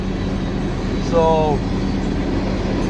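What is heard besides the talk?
loaded coal train passing on tracks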